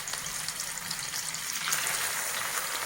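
Bitter gourd pieces coated in gram flour paste frying in a small amount of oil, giving a continuous close, bright sizzle and crackle with no break.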